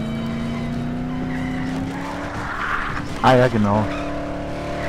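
A car in the video game Dead Island drives and skids, its engine hum rising into a brief, loud tire squeal near the end while players chat over it.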